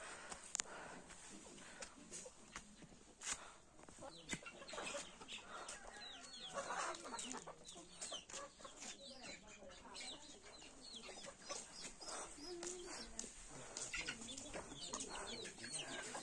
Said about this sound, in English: Chicken, local chicken.